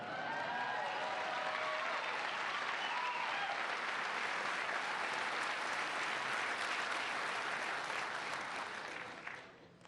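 Sustained, dense applause fills a large hall at a NASA astronaut class graduation, the first class of the Artemis program, staying loud and steady before tapering off at the very end.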